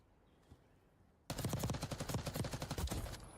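Gunshots from the Call of Duty video game, a sudden loud burst of rapid automatic fire after near silence, continuing steadily to the end.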